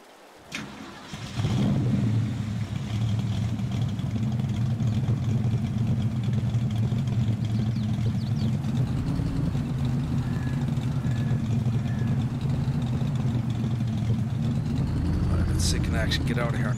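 Ford F150 Raptor engine in the Farming Simulator 22 video game, starting up after a brief quiet moment, then settling into a loud, continuous idle rumble with a slight rev toward the end.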